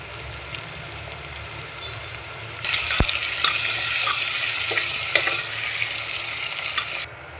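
Chopped tomato dropped into hot egg biryani masala, a quiet pan hum that jumps to a loud bright sizzle after a sharp clatter, then steady frying with occasional stirring clicks, no speech.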